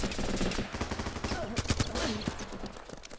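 Guns rattle in the Running with Rifles video game as a fast, loud run of gunfire, with shots firing in quick bursts and several heavy hits.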